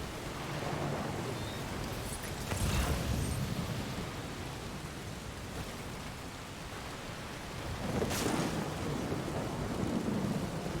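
Heavy rain pours steadily in Death Stranding, with two rolls of thunder rumbling through the downpour, the second building near the end.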